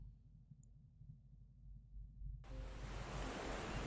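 In a mobile video game, a quiet low rumble gives way to a sudden rush of surf, waves washing steadily onto a shore, broad and noisy.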